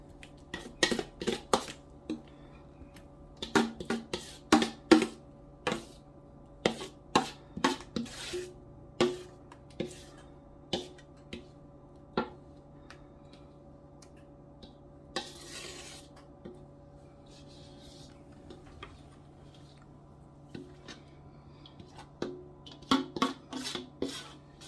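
Ground beef cornbread dressing scraped and spooned into a cooking pan, with a series of sharp clinks and scrapes of a utensil against metal over a low steady background hum, no talking.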